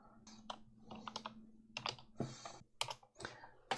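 Close, quiet typing on a computer keyboard, with irregular clusters of sharp key clicks and short gaps between them, heard with no talking.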